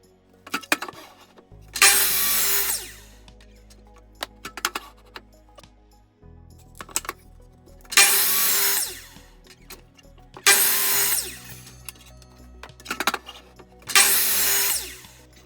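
A power saw making repeated cuts in wood with a stop block while building small wooden craft sailboats: four loud, evenly spaced cutting bursts of a few seconds each, separated by the lower hum of the motor.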